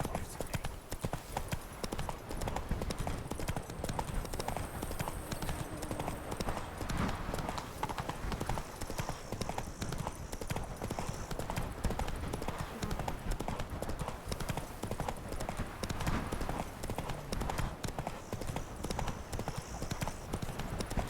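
Hoofbeats of a galloping horse in The Witcher 3 video game, a fast continuous clip-clop rhythm that stays steady and close throughout, with faint game ambience and light voices in the background.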